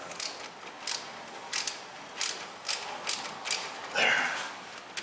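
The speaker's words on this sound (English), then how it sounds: "Use a little ratchet." A small hand ratchet tightens bolts on a Toyota Prius front wheel hub, giving close, crisp clicking bursts repeated in a steady rhythm, with no talk.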